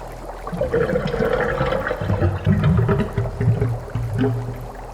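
Heavy water cascading and pouring down as an audio drama effect, a loud, continuous rushing torrent with a deep low rumble running throughout.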